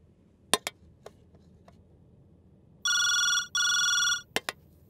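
A telephone rings twice in a Telugu movie comedy scene, two loud electronic trilling bursts of about half a second each, following a few faint clicks and knocks in a quiet room.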